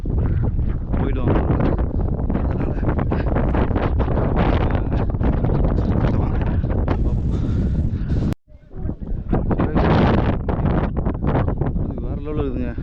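Strong gusting wind at the Mandalpatti viewpoint in Coorg buffets the microphone with loud, continuous roaring rumble, broken by a brief dropout before the gusts return; a voice talks underneath.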